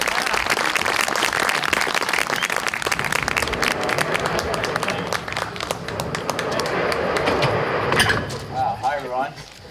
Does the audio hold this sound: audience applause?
yes